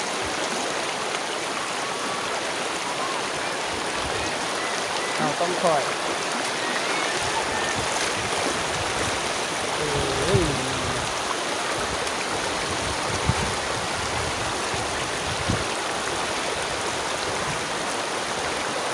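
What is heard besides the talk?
flowing river water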